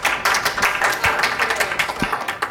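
A small, scattered round of clapping from a few conference talk audience members, fairly faint and brief, with sharp irregular claps.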